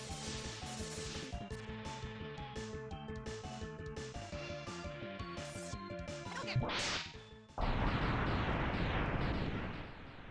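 Rhythmic Mega Man X game music with sharp whip-like cracks gives way to a loud burst and rumbling explosive blasts, all heard without speech.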